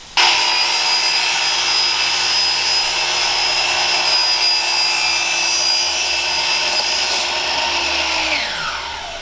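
A power saw rips a wood board, whining steadily through the cut for about nine seconds, loud and close, then winds down at the end.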